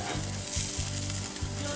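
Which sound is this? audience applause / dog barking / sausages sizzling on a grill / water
sausages sizzling on a grill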